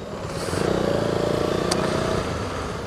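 KTM Duke 390 single-cylinder motorcycle with a missing exhaust, its engine running loud and raw with a steady rattling drone and a brief sharp spike midway, at a test-ride event in Israel.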